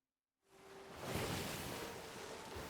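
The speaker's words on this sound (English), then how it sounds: "just hearing the water splashing" Gentle water washing and splashing against a boat in the pirate video game Sea of Thieves, a steady broadband wash that rises quickly from silence and stays moderately loud and even, with no voices.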